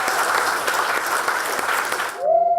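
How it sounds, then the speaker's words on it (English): A group applauds together for about two seconds, close and steady, and the clapping then stops abruptly. "Give yourselves a round of applause."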